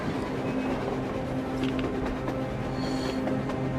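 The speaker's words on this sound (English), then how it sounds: "A train! A damn train on the surface!" A train heard in the video game Metro Exodus, running on the surface as a steady, continuous rumble with a sustained low hum and faint clanks, held at an even level throughout.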